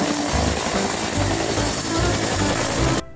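A continuous whirring toy helicopter rotor with a high-pitched whine runs loudly and steadily, then cuts off abruptly at the end.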